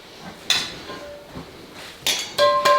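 A big cast iron skillet set down on a stovetop, giving a few sharp metallic clanks and clinks, close and distinct against a quiet room.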